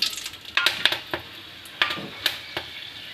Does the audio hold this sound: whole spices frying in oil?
yes